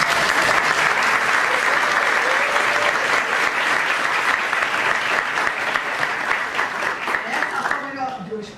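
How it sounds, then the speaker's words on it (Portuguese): Sustained audience applause at an academic conference on the human side of Rio's favelas, a dense steady clapping that holds strong for several seconds and then tapers off near the end, with a voice faintly audible under the clapping. "Eu gostaria também de pedir uma salva de palmas"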